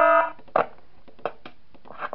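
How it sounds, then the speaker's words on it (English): A short electronic alarm tone sounds at the start of a Five Nights At Smash Bros 3 night, then cuts off, followed by a few scattered bumps and clicks of game noise over near silence. "got to play the alarm"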